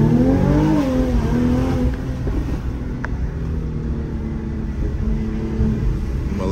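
A Corvette C8 engine revs and accelerates on a night drive, a deep rumbling rise in pitch that settles into a steady cruising drone, heard from inside the car.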